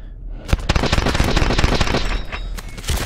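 Rapid automatic gunfire in Call of Duty: Advanced Warfare, a loud close burst of fast repeated shots that starts after a brief lull and runs nearly nonstop, with a few sharper cracks toward the end.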